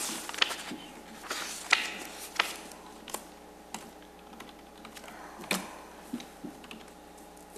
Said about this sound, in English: This keyboard's throwing me off though. It's a little curvy.